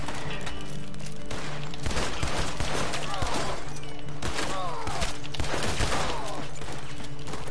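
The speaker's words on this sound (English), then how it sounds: "I'm taking like 10 million shots" Heavy gunfire fills a Red Dead Redemption 2 shootout, a dense, continuous barrage of overlapping shots and thuds with scattered impacts, loud and sustained across the whole stretch.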